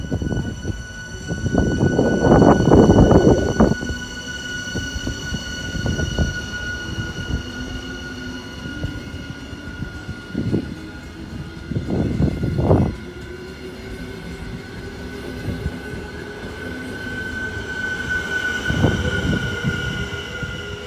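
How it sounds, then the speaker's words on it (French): A TGV M high-speed train in France runs past. Loud, close rumbling bursts sit under a steady electric whine whose pitch slowly climbs, with harmonic tones held throughout. "Et pour comparer, le son du TGVM, futur TGV, qui roulera en commercial en 2024 en France"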